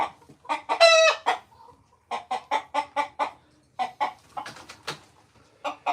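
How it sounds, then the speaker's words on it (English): A rooster crows and clucks close by, a strained drawn-out crow followed by quick clusters of sharp clucking bursts in an uneven rhythm, loud and alone with no talking. "Everybody knows you're the biggest rooster."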